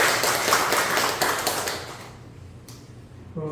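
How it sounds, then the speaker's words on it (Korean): A church congregation at a Korean Sunday worship service claps together in a short burst of many hands, which fades out within about two seconds and leaves quiet room sound. "우리 사랑속 한번 박수 한번 해주시죠."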